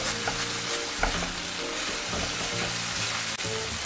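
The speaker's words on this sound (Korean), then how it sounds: "김치를 넣고 볶아줍니다. 그 위에 간장 한 큰술 넣고 빠르게 섞어줍니다." Kimchi stir-fried in a pan with a spoonful of soy sauce, a steady sizzle under repeated scraping and stirring strokes of a utensil, close and continuous, no voices.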